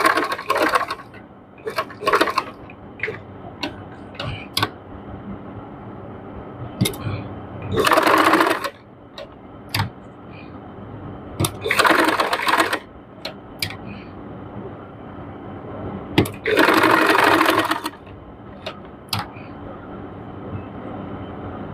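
Sewing machine stitching a neck design: several short bursts of rapid mechanical whirring over background clicks and handling noise, close and moderately loud, separated by quieter gaps.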